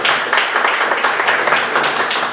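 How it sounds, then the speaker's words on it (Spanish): An audience applauds a guest lecturer, steady dense clapping filling the short moment at moderate loudness with no talk. "brindarles un fuerte aplauso al expositor que nos acompaña el día de hoy"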